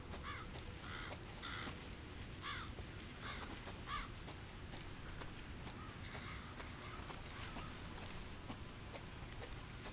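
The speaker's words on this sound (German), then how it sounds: "Ah, das sind die Raben, die was da dieses komische Geräusch machen." Ravens in the horror video game Resident Evil 7 caw in repeated bursts of harsh calls over a dark, rumbling ambient backdrop, with a few quieter caws scattered between the louder groups.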